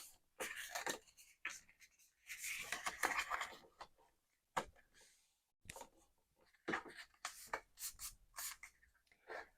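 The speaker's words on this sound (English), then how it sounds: "And then our last score line, we're going to fold this way." Scored paper being folded along its crease lines for a Christmas mini album, soft papery rustles and creases in short separate bursts with quiet gaps between them.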